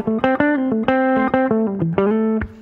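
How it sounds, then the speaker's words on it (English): Electric guitar notes picked in a quick melodic run with a slightly gritty, compressed tone, each note sustaining evenly into the next. "it even adds a little bit of distortion"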